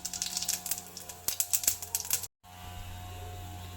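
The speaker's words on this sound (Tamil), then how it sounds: "கடுகு பொரிஞ்சோன்னே" Mustard seeds crackle and pop in hot oil, a quick run of sharp spluttering bursts close up that suddenly cuts out, leaving a faint steady hiss.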